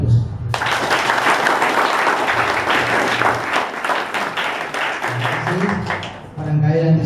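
An audience at a courtroom-style event claps in sustained, loud applause that fills the room for several seconds and then fades, with someone speaking briefly before and after.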